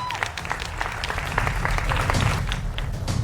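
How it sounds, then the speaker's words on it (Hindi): A studio audience on a televised political debate show bursts into steady, dense applause to welcome the guests, close and continuous through the moment. "दोनों मेहमानों का स्वागत है जोरदार तालियों के साथ।"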